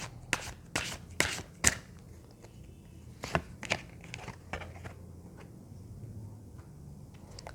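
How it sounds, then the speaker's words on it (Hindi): Tarot cards are shuffled and drawn, giving a cluster of soft, close flicks and taps followed by quieter, sparser card sounds. "मैंने 3 कार्ड्स निकाले हैं"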